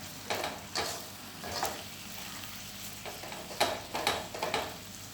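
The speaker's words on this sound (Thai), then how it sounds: "เราจะเคี่ยวให้น้ำตาลซึมเข้าไปในหมูเลยค่ะ" Pork belly cooks with sugar in a pot for Thai egg-and-pork palo, giving soft bubbling and sizzle with a few louder scraping stirs spaced through the stretch, close and moderately quiet, with no talking.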